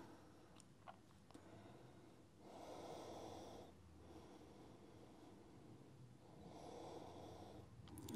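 Slow, deep breathing in a yoga forward fold, two long soft breaths with quiet pauses between, faint and close.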